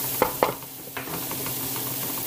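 Onions and garlic sautéing in a pan, a soft, steady sizzle with a few sharp utensil taps near the start, quiet and close.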